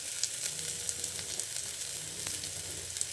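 Onion frying in a pan alongside bitter gourd, a soft steady sizzle with occasional small pops and crackles, fairly quiet and close, no voices.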